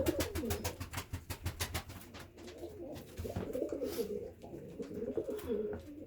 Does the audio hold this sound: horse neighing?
no